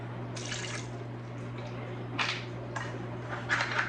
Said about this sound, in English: And then we're going to add the 1/4 of a cup of water.